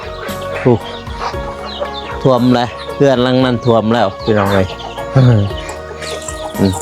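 Backyard chickens kept with ducks cluck around a rain-flooded rural home, their calls mixed in beneath someone talking loudly nearby.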